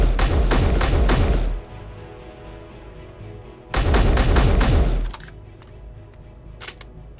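Semi-automatic standard rifle firing in Space Engineers: two quick strings of sharp, loud shots in even rhythm, each burst a handful of rounds, separated by quieter pauses with a faint clatter afterward.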